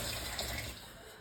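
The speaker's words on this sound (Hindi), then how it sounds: "सबसे पहले कार्यक्रम स्टार्ट करने के लिए हम करेंगे सिंक का पानी ठंडा" Cold water runs steadily from a kitchen sink tap, a close, continuous gushing splash that eases slightly toward the end, with no talking.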